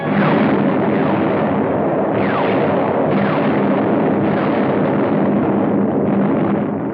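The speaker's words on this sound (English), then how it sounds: "From the skies, a bombardment to which we had no adequate answer." Aerial bombardment in WWII Tunisia, heard as a loud, continuous roar of overlapping explosions with rolling rumbles and fresh blasts every second or so, dense and unbroken throughout.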